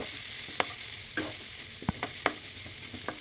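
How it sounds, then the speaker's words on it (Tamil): Grated carrot fries in ghee, in the same pan just used to fry cashews and raisins, while cooking a carrot sago payasam. A steady, soft sizzle runs throughout, broken by sharp spoon scrapes and stirring clicks. "வறுபட்ட முந்திரி திராட்சையை வேற ஒரு பாத்திரத்துக்கு மாற்றிட்டு அதே நெய்யில் துருவி வச்ச கேரட்டை வறுத்துக்கலாம்"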